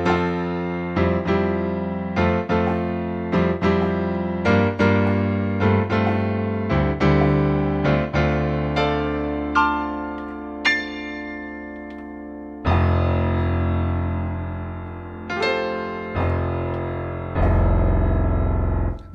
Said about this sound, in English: That's a pretty good piano sound in my opinion.